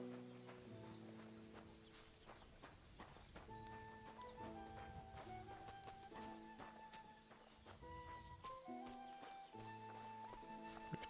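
Horse hooves clip-clop at a steady walking rhythm in Kingdom Come: Deliverance II, heard under a continuous musical score with sustained tones throughout.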